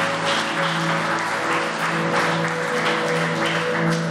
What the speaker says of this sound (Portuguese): Aplauda o nome do Senhor Jesus mais uma vez.